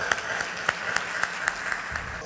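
Light, rhythmic clapping comes from a small audience at a community event: a handful of evenly spaced claps at a moderate, somewhat distant level over a quiet room.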